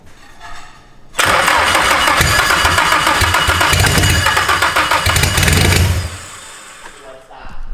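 A Nissan engine swapped into a Mazda Miata cranks and fires for the first time, running loud and rough for several seconds before cutting off, with voices before and after.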